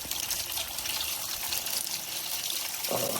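Water runs from a tap inside a camper van onto a bee-stung ankle, giving a steady close hiss and splash that thickens into a heavier gush near the end, with no talking.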